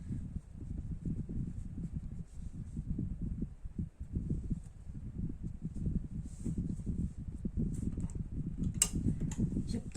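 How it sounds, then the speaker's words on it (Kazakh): An industrial zigzag sewing machine running a straight stitch, a steady low mechanical whir and rapid needle thrum held continuously, close and even, with faint ticks toward the end. "Енді мен сіздерге қазір прямой строчканы қалай тігу керек,"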